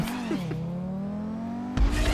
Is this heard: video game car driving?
yes